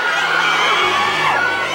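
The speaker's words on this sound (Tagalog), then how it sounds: "sinalubong ang phenomenal love team ng nakabibinging hiyawan mula sa fans" Fans scream and cheer as a celebrity love team arrives at a red carpet movie premiere, a loud, dense crowd roar with high-pitched shrieks and whoops that stays close and unbroken throughout.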